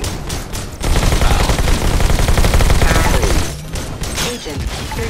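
Rapid automatic Uzi fire in the VR game Robo Recall: dense, loud bursts of shots pour out for several seconds, then drop to scattered hits and mechanical clatter.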